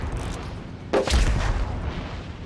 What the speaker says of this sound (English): Now, I'm firing AP rounds